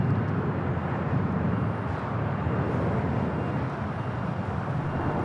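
A SkyWest airliner departs from LAX, its engines producing a loud, steady broadband roar that holds evenly throughout at a distance, with no voices.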